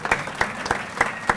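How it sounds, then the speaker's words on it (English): An audience applauds to thank a bookstore at a sports club luncheon, the clapping arriving as regular, evenly spaced swells over a short burst of steady hand noise, with no talking. "So let's give them a round of applause."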